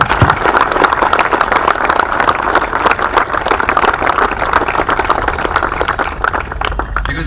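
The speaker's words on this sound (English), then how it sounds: "the coaches need a round of applause" A large group at cricket nets in South Africa applauds the coaches. The clapping is dense and loud and runs steadily the whole time, with a faint crowd murmur mixed in.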